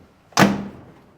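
A Ford pickup door with freshly repaired rocker panels slams shut once, a single sharp close thud that rings briefly and fades, with no voices.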